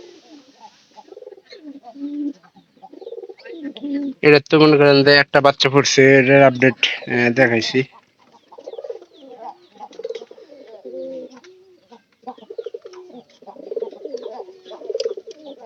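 Pigeons kept at home by their nest and eggs, with a loud burst of throaty cooing in the middle while someone talks before and after.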